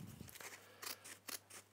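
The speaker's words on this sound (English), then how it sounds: "you just simply take your pair of scissors," A pair of scissors cutting fabric backed with bonding web, giving a series of quiet, close crisp snips and slicing strokes with no talk.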